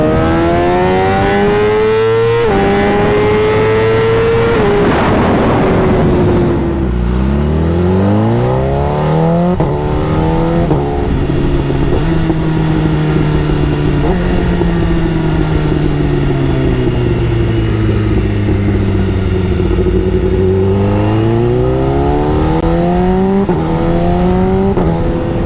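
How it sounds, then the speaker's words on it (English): Supercharged Kawasaki Ninja H2 sport motorcycle, seven years old and lowered, accelerating hard through the gears on a road: a loud, close engine climbs in pitch, drops at each shift and winds up again, with no talk over it. "I can kick down the second gear on the H2 and just annihilate this road."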